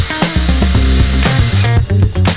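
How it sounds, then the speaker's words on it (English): A drill bit grinds slowly through a broken bolt, giving a close, steady mechanical whine whose pitch steps up and down as the speed changes over a couple of seconds. "So I'm going to go pretty slow here and try to get my first hole all the way through that bolt."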